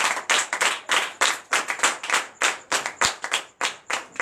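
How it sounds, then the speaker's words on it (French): Rhythmic group clapping from a church congregation acclaiming Jesus, in repeated bursts, loud and close, with brief gaps between each round of claps. "Donnez encore de vive acclamation au Seigneur Jésus."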